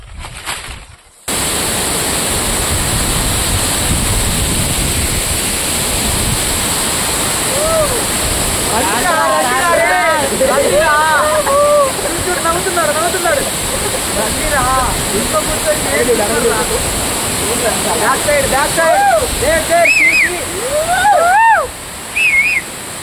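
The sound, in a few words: waterfall in Nallamala forest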